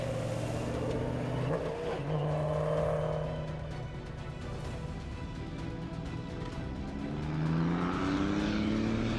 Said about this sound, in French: Olivier Imschkot, dont le papa est ici un peu en difficulté à garder son pick-up Toyota sur la droite ligne.